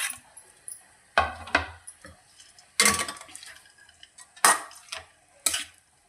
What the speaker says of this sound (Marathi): आता आपण टाकणार ड्रायफ्रूटचे काप